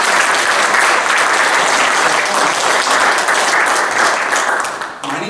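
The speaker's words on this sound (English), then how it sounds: "Let's give another round of applause for Master of Painting." A round of applause from an audience at a Grange hall magic show, loud and sustained clapping for about five seconds before fading and cutting off near the end.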